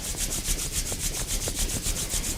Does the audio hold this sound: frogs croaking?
no